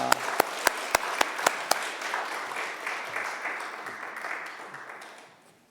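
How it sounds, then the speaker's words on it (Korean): Church congregation clapping to welcome a woman forward at a Friday worship service, opening with several sharp, evenly spaced single claps before swelling into steady applause that gradually fades out. "박수로 환영하시기 감사합니다"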